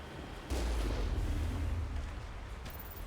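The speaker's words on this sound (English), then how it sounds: "There's the artillery, Shepard." Artillery fire in the sci-fi shooter Mass Effect on Virmire: a sudden heavy boom lands about half a second in and rolls into a long, loud low rumble that slowly fades, with a softer burst near the end.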